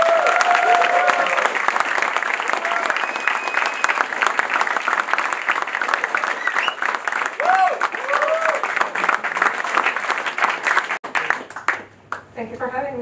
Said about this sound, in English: big applause for Florina!